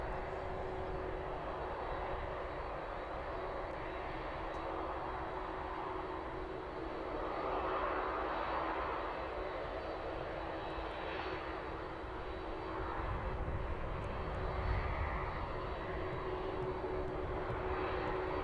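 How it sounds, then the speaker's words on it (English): Boeing 767 taxiing toward runway 27 at East Midlands Airport in the evening, its engines giving a steady whining roar from a short distance away that swells slightly near the end, with no talk over it. "making its way down the taxiway now, just a short way off, making its way on runway 27."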